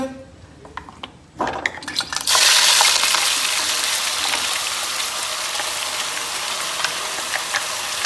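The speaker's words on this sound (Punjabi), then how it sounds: "ਹੁਣ ਆਪਾਂ ਇਹਦੇ ਵਿੱਚ ਪਾਉਣ ਲੱਗੇ ਆ ਪੇਸਟ" A spice paste drops into hot oil with a few clatters, then a dense, crackling sizzle settles in and continues steadily up close.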